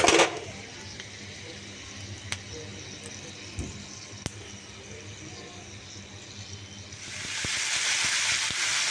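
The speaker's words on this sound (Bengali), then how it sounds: "পাঁচফোড়ন ছেড়ে দেব ভালো করে ভেজে নিতে হবে পাঁচফোড়নটাকে" Panch phoron five-spice drops into hot oil in a home kitchen: after a quiet stretch with a few sharp clicks, a broad frying sizzle swells up and holds for the last couple of seconds.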